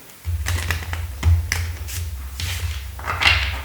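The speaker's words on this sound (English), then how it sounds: "All right, last shuffle." Tarot cards being shuffled by hand, a run of crisp riffling taps and soft slaps repeating unevenly over a low steady hum, fairly close with no talking.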